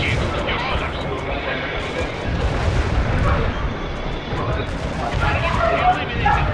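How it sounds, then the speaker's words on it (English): Missiles and artillery boom repeatedly in the World in Conflict strategy game. Dense explosive rumbles and blasts continue under radio chatter and unit voice lines. "Fire the missile."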